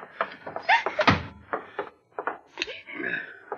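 A door is handled in a radio drama, with several thumps and knocks as it opens and closes, heard amid bursts of voices and movement.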